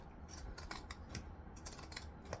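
Scissors cut through thick fabric in a series of crisp, rhythmic snips and crunching bursts, close but soft, with no talk.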